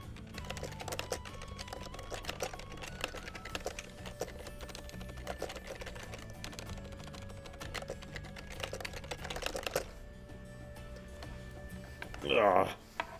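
A computer keyboard clatters with dense, fast, continuous keystrokes under a person talking, with game music in the background during a run of Atelier Sophie and the Mysterious Book.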